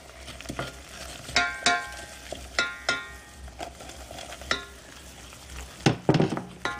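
A spoon scrapes and clinks rapidly against a pan while a thick mixture for alpine macaroni is stirred energetically, sharp irregular knocks over a soft background sizzle, close and loud.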